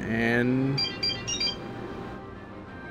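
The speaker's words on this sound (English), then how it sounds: "That was my phone going off." A phone goes off during a game stream, a bright melodic ringtone chiming at the start and briefly again, with a voice talking over it.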